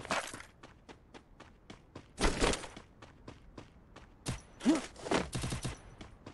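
Rapid bursts of shotgun gunfire in Free Fire, sharp cracking shots in quick rhythm with a couple of louder blasts standing out among them.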